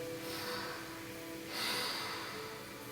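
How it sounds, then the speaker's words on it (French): Slow breathing during a yoga exercise for back pain: a soft, steady airy hiss with one fuller breath swelling midway, close and quiet, with no talking. "Et on respire."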